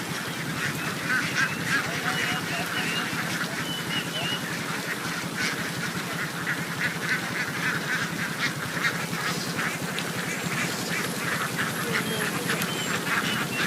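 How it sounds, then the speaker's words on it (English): A flock of ducks quacks in a busy, continuous chorus as they stream through a street in Vietnam, with some voices nearby talking under the steady noise. "It's actually not uncommon to see a river of ducks flow through the streets of Vietnam."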